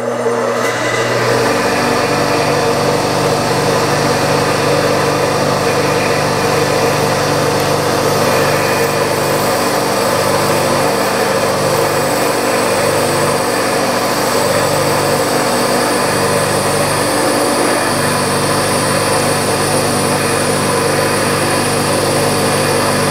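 A model spool valve engine restarts and runs steadily, its fast, even buzz close and loud throughout, with a few low thumps pulsing underneath partway through.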